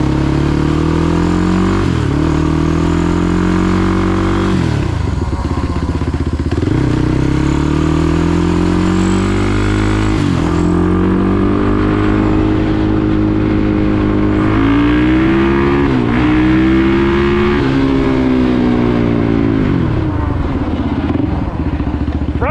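A Polaris 450 Outlaw ATV engine runs loud and close during a ride, its revs rising and falling repeatedly through gear changes, with a droning, buzzing tone throughout.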